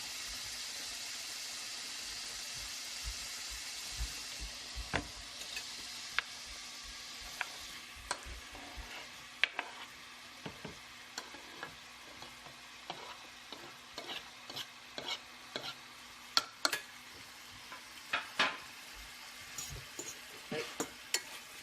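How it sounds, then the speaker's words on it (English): Rabbit pieces brown in a hot pan with onions, a soft continuous sizzle broken by frequent sharp clicks and scrapes of stirring, close and fairly quiet with no talking. "We're just going to brown all of the sides until they're lightly browned."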